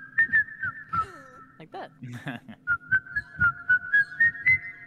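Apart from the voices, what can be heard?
person whistling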